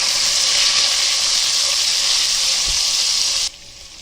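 Onion and potato fry in a pan with a steady, loud sizzle that hisses continuously, then drops suddenly quieter near the end.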